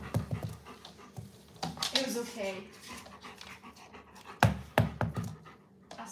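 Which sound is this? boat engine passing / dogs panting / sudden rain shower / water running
dogs panting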